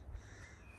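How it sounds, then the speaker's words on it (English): Crows caw against a steady outdoor background hum near a train line at Shipton-on-Cherwell, with no talking; the calls are soft and somewhat distant. "Nice, quiet, peaceful spot, just full of birdsong."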